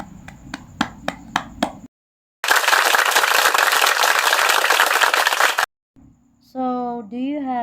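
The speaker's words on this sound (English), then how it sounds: "let's give a round of applause" A class of students applauds, a burst of dense clapping lasting a few seconds, preceded by a handful of sharp separate claps and followed by a voice talking.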